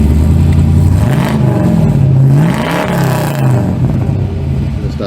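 A Holden VL car engine revs up and falls back twice, the note rising and dropping in loud swells over a steady throaty idle, close by with no talk.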